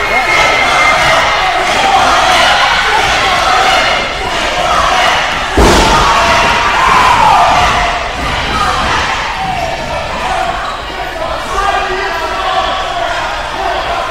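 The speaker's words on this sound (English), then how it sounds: "Crowd very pro Jay Flyier here for this match" A wrestling crowd at an indie show cheers and roars loudly throughout, with a sharp slam or thud from the ring partway through and chanting voices rising and falling.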